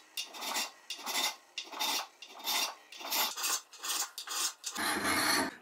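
A hand file rasps along the bevel of a freehand-made knife blade, with about a dozen steady rhythmic close strokes separated by brief gaps, ending in a longer scrape.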